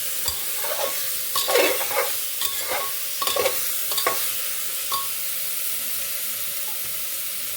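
Banana stalk pieces and potatoes stir-fried in a hot pan, with a steady sizzle broken by several scraping stirs of the spatula in the first five seconds, then a quieter, even frying hiss.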